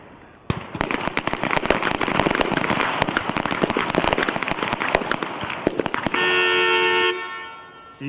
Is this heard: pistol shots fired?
yes